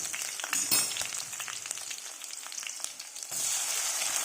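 Chopped tomato drops into a hot pan for a radish leaf curry, with a sharp sizzle bursting up and then settling into a steady close hiss and light stirring.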